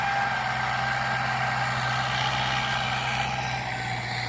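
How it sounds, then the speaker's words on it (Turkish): A Steyr 768 tractor engine running in a field during plowing, a steady low diesel drone with a constant hum, heard close and continuous with no talk. "İşte 768. Güçlü bir traktör. Çekiş gücü oldukça iyi."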